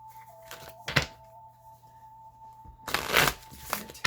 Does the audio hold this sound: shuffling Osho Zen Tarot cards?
yes